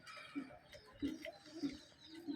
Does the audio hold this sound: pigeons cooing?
yes